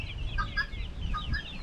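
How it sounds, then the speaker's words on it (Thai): Guinea fowl clucking at a rural home in Savannakhet, Laos: a run of short, chirpy, repeated calls at moderate distance over a steady low background rumble, with no voices. "ไก่ตอกเนาะ ไก่ต๊อก"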